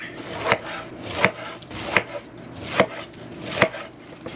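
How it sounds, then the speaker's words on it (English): A knife cuts the rind off a fresh pineapple on a cutting board, giving five evenly spaced, crisp chops with soft scraping between them. "Just get the rind off of them and we'll get the core out."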